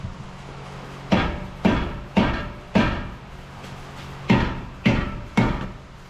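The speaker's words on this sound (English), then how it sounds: "you get your big hammer. And you start tapping on it." A big hammer taps on a Ford F150 wheel hub: seven loud, sharp metallic blows in two uneven groups, close up, each with a short ringing decay, with no talking.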